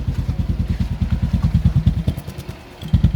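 A ten-year-old motorcycle engine idles close by with a steady, even putter of exhaust pulses from the muffler, briefly dipping before picking back up.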